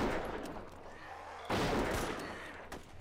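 Gunfire rattles in the DayZ Mod Breaking Point video game: a string of sharp shots, with one loud, close burst in the middle over steady background noise.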